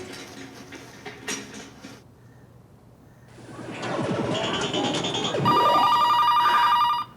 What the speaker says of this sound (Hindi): आ गया उस वाहियात का फोन फिर से।